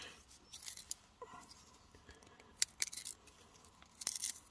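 A handheld pencil sharpener shaves a wooden stick for a fire kit, making several short, dry scraping bursts separated by quiet gaps, close up.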